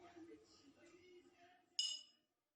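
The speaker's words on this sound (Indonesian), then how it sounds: "Pada botol yang berisi air yang paling tinggi, ketika kita pukul akan menghasilkan getaran berupa gelombang bunyi yang merambat melalui air" A water-filled glass bottle is struck once, giving a bright ringing clink that fades over about half a second, after a stretch of quiet room noise with faint voices.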